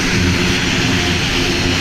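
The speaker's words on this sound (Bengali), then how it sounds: "গাড়ি যেভাবে চলে বিমানও সেইভাবে চলছে।" An airplane taxiing low on the ground at an old airport, its engine producing a loud, steady roar that stays close and constant throughout, with no talk.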